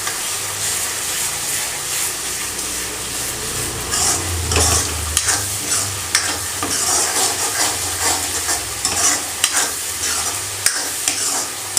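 Tomato masala gravy simmering and sizzling in a pan while a spoon stirs it, with continuous frying hiss and repeated scraping strokes, close and loud, no talking.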